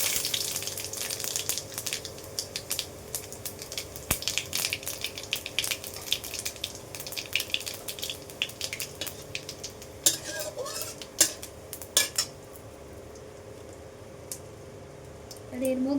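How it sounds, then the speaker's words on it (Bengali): Whole cumin seeds, a bay leaf and a dried chilli sizzle in hot oil in a pan, a steady background hiss mixed with clinking utensils, with some faint speech in the middle. "এবারে কিন্তু এর মধ্যে আমি ফোড়নের জিনিসগুলো দিয়ে দিচ্ছি। জিরে, গোটা জিরে, তেজপাতা আর একটা"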